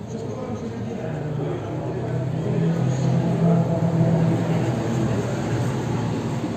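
A classic Talbot six-cylinder car idling and revving at a track event, its exhaust giving a loud, continuous low rumble that swells in the middle before settling again, with no talk over it.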